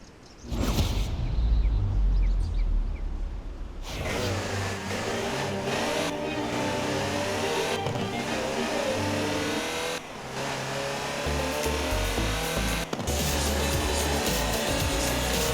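Land Rover Series III engine in the racing game Forza Horizon 4, loud and close, revving and accelerating through gear changes with a steady mid-pitched drone and brief dips between shifts.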